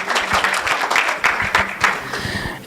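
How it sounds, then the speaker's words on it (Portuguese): A small audience at a talk on training ensemble models with Scikit Learn claps, a short, moderately loud patter of separate hand claps that thins toward the end, with a little voice mixed in. "uma salva de palmas, por favor"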